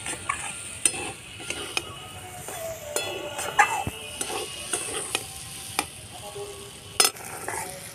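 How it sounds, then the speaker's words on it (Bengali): Fish-oil vegetable curry (chorchori made with katla fish oil) fries in a pan under a low sizzle, punctuated by frequent sharp metal spatula scrapes and clinks as it is stirred. "ভালো করে তরকারিটা ভেজে নিতে হবে।"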